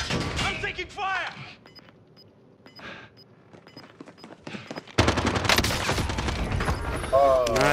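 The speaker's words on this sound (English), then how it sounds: "I'm taking fire!" Gunfire bursts in the Call of Duty Warzone battle royale game, rattling under a voice early on, thinning to sparse faint shots, then a loud dense burst of automatic fire with talk over it.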